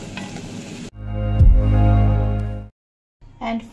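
Okra (bhindi) fries in a pan on a home stove, giving a couple of seconds of sizzling and stirring noise, close and fairly loud, with brief quiet gaps around it.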